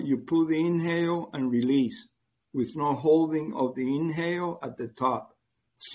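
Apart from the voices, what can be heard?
No distinct noise like a dog, phone or traffic.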